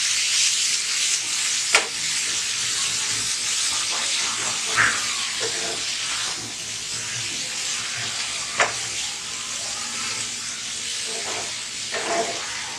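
Egg scrambled with cauliflower and zucchini cooking in a pan, a continuous hissing sizzle with occasional scraping stirs and soft clinks.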